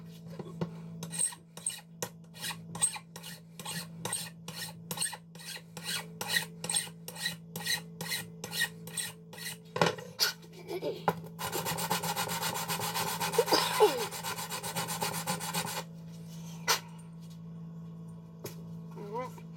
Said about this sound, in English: it looks like here to the left of the switches I need a little bit more filing action going on